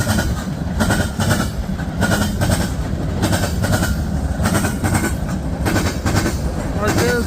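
A fast, heavy freight train pounds across a rail diamond, its wheels hammering out a steady run of loud clickety-clack beats close by, with the rumble of the rail cars continuing underneath.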